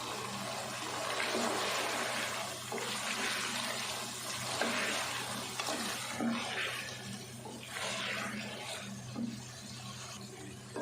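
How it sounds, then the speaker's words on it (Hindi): Mutton with green chickpeas and potatoes being fried with spices in a pot, a steady broad sizzle and hiss running throughout with faint stirring knocks, close and alone. "हमने गोश्त को भी मसालों के साथ और ये छोलिया और आलू की भी भुनाई कर लेते हैं।"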